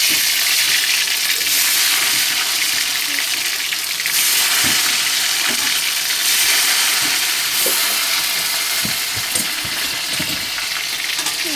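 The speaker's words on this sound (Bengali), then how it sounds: "চিকেনের আলুটা দিয়ে দিলাম, ভাজা ভাজা হবে" Potatoes for a chicken curry fry in hot oil, giving a steady, loud, close sizzle that runs the whole time, with occasional soft clinks and stirring scrapes from the pan.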